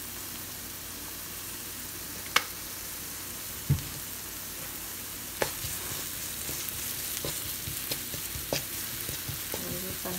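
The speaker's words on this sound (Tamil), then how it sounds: "இப்போ நல்லா வதங்கட்டும். ஒரு 5-6 மினிட்ஸ் விடணும் வதங்க." Onions fry in oil in a pan, a faint steady sizzle with occasional sharp clinks and taps of a utensil against the pan scattered through the clip.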